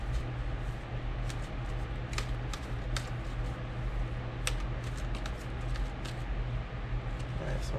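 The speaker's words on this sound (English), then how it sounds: "I'm going to shuffle" Tarot cards shuffled by hand make a series of soft, crisp riffling clicks and flutters in irregular bursts over a quiet room hum, with no talking.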